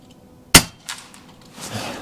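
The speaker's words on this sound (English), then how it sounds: "we're gonna shoot at the bottom left target." FX Impact M3 .22 air rifle firing an H&N 25 grain slug: a single sharp, loud crack, followed by a faint impact and quiet background.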